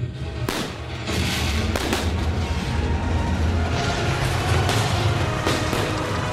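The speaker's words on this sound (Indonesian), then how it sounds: "Ayo tembak, tembak, tembak." Heavy gunfire from a staged battle scene crackles in repeated sharp bursts over a dense, roaring background, loud and continuous with no voices.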